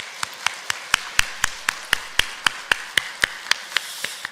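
A church congregation claps together at a worship service, steady sharp beats at a brisk, even pace that stay fairly uniform in loudness, with no talking over them.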